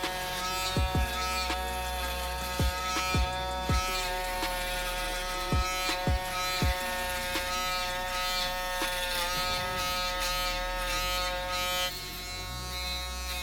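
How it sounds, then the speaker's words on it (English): Electric Flow shavers buzz steadily against the lower back of the head during a self-administered burst fade, a continuous close, loud motor hum broken by repeated brief clicks and knocks as the blade passes over the hair. "now I'm going to use my electric flow shavers and I'm going to bald out everything toward the bottom back of my head"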